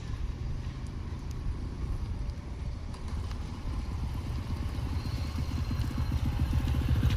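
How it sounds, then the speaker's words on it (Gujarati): A vehicle driven slowly by a learner keeps its engine running in a continuous low rumble. The rattle stays close and fairly loud and grows a little stronger as it nears, with no talking. "જો ધીરે ધીરે ગાડી લઈને આવે રહ્યો"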